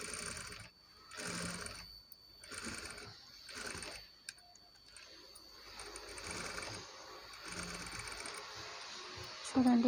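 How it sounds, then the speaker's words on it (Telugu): A sewing machine stitches along the lining seam of a saree blouse piping in short bursts of whirring, pausing between runs while someone talks quietly in between. "అదే స్టిచ్ పై నుండి ఒక స్టిచ్ వేయాలి"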